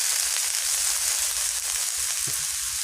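Cumin seeds, dried red chillies and ash gourd hit very hot oil in a kadai, giving a loud, continuous, close-up sizzle throughout.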